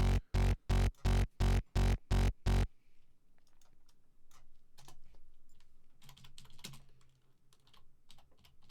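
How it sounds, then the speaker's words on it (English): Brisk typing on a computer keyboard comes in a quick run of about eight evenly spaced clacking bursts, followed by quieter, scattered key taps and faint clicks over a soft background. "I've added a macro"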